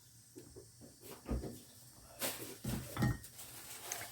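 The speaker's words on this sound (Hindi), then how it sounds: "अभी हम इसको डिश आउट कर रहे हैं" Serving food out of a cooking pot in a home kitchen, with a few scattered metallic scrapes and clinks of a utensil against the pot that rise over quiet room noise, some strokes louder than others.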